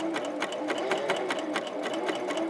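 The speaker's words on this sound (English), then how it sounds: "now we can take a few stitches to get this started" A Janome CoverPro 3000 coverstitch machine sewing a triple top cover stitch, a steady fast mechanical whirr with a rhythmic needle clatter, close and continuous.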